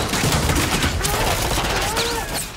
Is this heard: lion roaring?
no